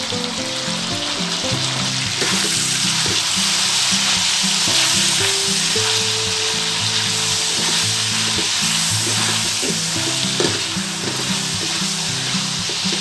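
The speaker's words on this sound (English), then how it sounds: "After pan frying, add back the adobo sauce and mix thoroughly." Loud, continuous sizzling of pork frying in a pan for adobo, with scraping and stirring sounds as adobo sauce is mixed in, and no voices.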